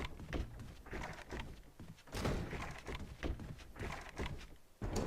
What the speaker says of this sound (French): il tape à la porte.